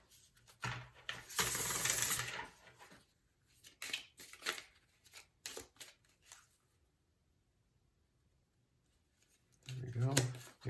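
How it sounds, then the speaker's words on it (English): Tarot cards being shuffled by hand indoors, a few short riffling and flicking bursts separated by pauses, close and moderately loud. "I'm gonna do some more shuffling"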